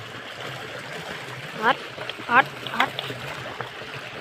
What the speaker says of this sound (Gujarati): વહીરું હો મિત્રો, પાણી નાખું વહીરું જોઈ શકો તમે